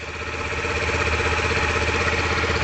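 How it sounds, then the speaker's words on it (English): A 2010 Yamaha YBR 125 motorcycle engine idles steadily at close range, a loud, even putter with a slight rhythmic throb. "It sounds like a 125."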